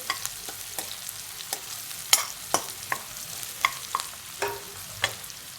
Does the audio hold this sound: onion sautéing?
yes